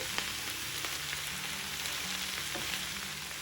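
Amaranth leaves and onions frying in an open pan give a steady, even crackle and hiss with faint tapping, close and unbroken, with no voices.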